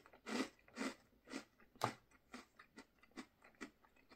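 Crunchy Greek rusk snack being bitten and chewed up close: a series of crisp, dry crunches in an uneven rhythm, the strongest bites early, then softer chewing crackles, with no talking.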